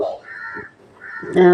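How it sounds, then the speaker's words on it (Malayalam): Crows perched nearby caw in a few harsh calls, the last one loud and close, with soft speech under them. "കാക്കകൾ ഇവിടെ വന്നിരുന്ന് കരയാണ്"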